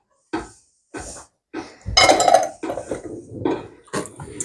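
A spoon scrapes and clinks against the inside of a Cookeo electric cooking pot in short repeated strokes, close and fairly loud, with bursts of louder clattering midway.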